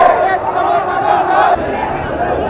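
A dense crowd is gathering at a protest rally. The roar of many voices stays loud and steady, with chanting and shouting blended into a continuous mass of sound.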